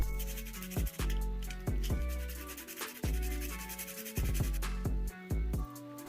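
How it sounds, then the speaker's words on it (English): Sandpaper rubs briskly against a plastic syringe in quick repeated strokes, a gritty scratching rhythm, close up and without any talking. "Sand the syringe with sandpaper to make it non-transparent."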